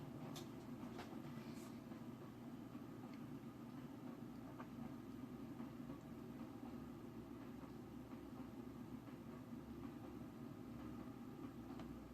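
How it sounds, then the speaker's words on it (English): A train rumbles steadily at a distance as it slows through a crossover, a faint continuous low roll with occasional metallic clanks, heard alone. "This train's slowing down quite a bit because of the crossover"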